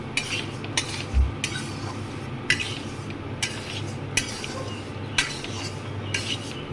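Rice and lentils are stirred and lightly fried in a wok, a utensil scraping the metal in regular repeated strokes over a low steady hum, close and fairly quiet.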